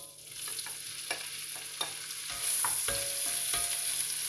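Diced lardons browning in a pan for a Bocuse-style beef bourguignon: a steady close sizzle that swells louder midway, broken by a handful of sharp utensil taps and scrapes against the pan.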